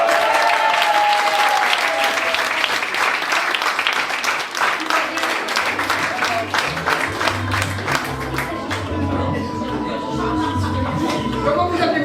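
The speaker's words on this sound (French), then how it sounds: "on applaudit très fort." A crowd claps and applauds steadily for several seconds, fairly close, with scattered voices mixing in as the clapping thins toward the end.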